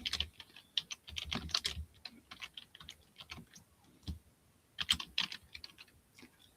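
Bursts of typing on a computer keyboard, quick clusters of close, crisp key taps separated by short pauses, fairly quiet with no talk.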